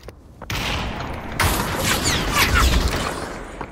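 Video game gunfire comes in dense, loud bursts of rapid shots that start abruptly and run almost continuously to the end, with a few sharper cracks and booms mixed in.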